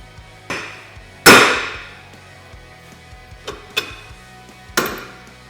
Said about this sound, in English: you'll have to take a hammer and hit the knuckle right here